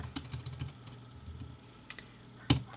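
Light, quick keystrokes on a computer keyboard, several clustered taps followed by scattered clicks and one firmer final press, close and fairly quiet.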